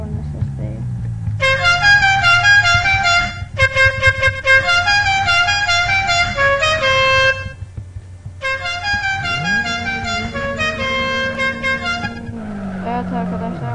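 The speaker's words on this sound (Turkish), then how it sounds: "Evet arkadaşlar, korna sesimizi yükledik." Loud multi-tone car horn from the Live for Speed racing game, sounding in several long sustained blasts with brief gaps, over a steady engine drone that rises in pitch near the end.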